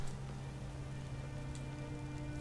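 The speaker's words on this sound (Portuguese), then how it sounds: "Tá até chovendo." Steady rain patters at night in a Skyrim town near a tavern, a constant soft hiss of drops with a faint background hum, heard alone without talk.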